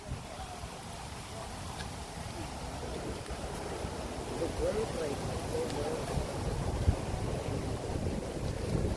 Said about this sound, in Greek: Φυσάει και πάλι, έχει δροσιά.